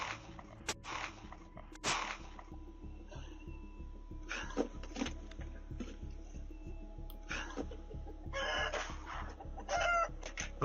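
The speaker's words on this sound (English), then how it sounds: "Oh, there comes the fucking chickens, bro." Chickens clucking and calling in the middle of a chaotic game scene, with sparse, irregular bird calls over a constant low rumble and background noise.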